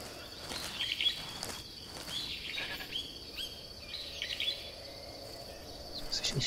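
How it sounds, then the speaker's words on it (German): Goat bleating in the Metal Gear Solid 3 Snake Eater video game, short repeated bleats at a moderate distance over a constant insect-like chirring ambience. "das war eine Ziege, die hat mich jetzt erschreckt"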